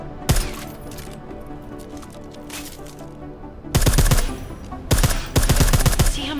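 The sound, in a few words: silenced gunfire in Deus Ex Mankind Divided video game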